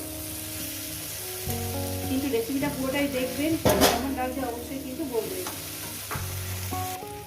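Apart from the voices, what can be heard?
mourala fish with potato frying in pan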